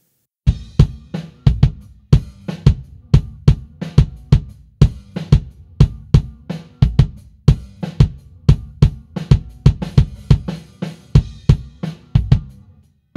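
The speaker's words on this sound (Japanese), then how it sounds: "すごくキックらしいですね。" A recorded kick drum run through a Universal Audio Hemisphere mic modeling plugin, a steady stream of close, loud, punchy thumps in a repeating groove with quick decays and no talking.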